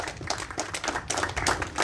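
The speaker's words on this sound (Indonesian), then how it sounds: "Tepuk tangan untuk 3 paslon lagi." An audience at a candidate number draw for regent and vice regent in Merauke claps in a short, fairly faint burst of scattered handclaps.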